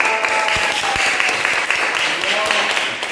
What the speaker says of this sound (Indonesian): Bagus, tepuk tangan buat kelompok keempat.